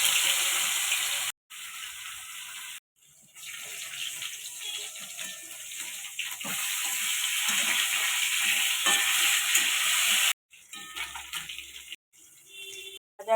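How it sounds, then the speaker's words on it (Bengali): Pieces of katla fish coated in turmeric and salt frying in hot oil in a pan, a sustained bright sizzle broken by a few brief silences and stirring noises. "মাছটা ভেজে নেব।"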